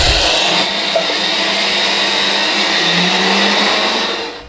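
An electric mixer grinder whirs loudly and continuously as it grinds coriander seeds into a fine powder, a steady close-up motor drone with no talk, tapering off at the end.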